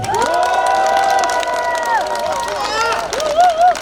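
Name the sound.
crowd applauding and cheering at campaign rally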